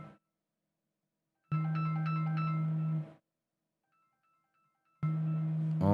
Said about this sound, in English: Let's see who's calling. Hold on, we got another call.